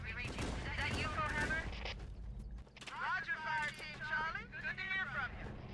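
Gunfire in Halo: Combat Evolved co-op play: a steady backdrop of game shots and effects sits under loud voices chatting and laughing nearly throughout, with the talk dominating.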